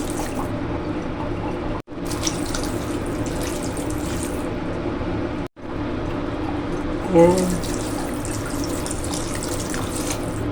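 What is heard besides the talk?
tap water pouring into pan for pancit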